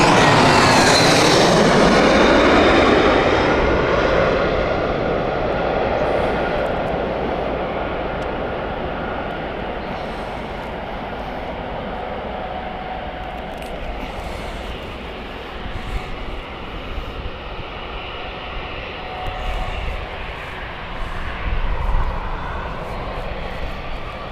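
British Airways airliner at Gatwick Airport, its engines roaring loudly and close at first, then fading into a steady distant rumble as it moves away.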